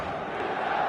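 A stadium crowd in the football video game eFootball, a dense, continuous roar of many voices, loud and unbroken throughout.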